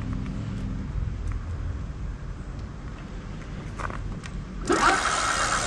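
A rear hub motor on a Magnum Pathfinder e-bike running off a dual-battery discharge balancer spins up abruptly near the end, a bright whirring whine rising over a steady low background hum.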